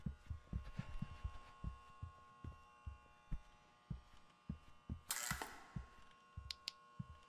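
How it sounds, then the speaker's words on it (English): A steady, thumping heartbeat pulses in a Roblox horror game, its low double beats repeating evenly throughout over a faint hum, with a brief burst of hiss midway. "I'm hearing my heartbeat."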